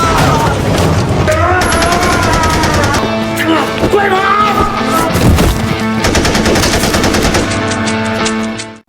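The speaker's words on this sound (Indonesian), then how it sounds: "Bin pun ditembak oleh Guan Chao" Gunshots in a film scene, loud bursts of rapid fire mixed with booms and dramatic music, sustained and dense throughout before cutting off at the end.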